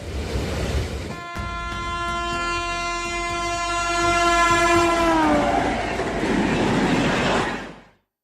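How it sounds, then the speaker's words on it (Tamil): An Indian passenger train bound for Bihar sounds a long, loud multi-tone horn that bends downward as it fades, over the steady rumble of wheels on track, ending in sudden silence. "ரயில் வந்திருக்கு, ரயிலில் ஏறி பீகாருக்கு போகிறோம்."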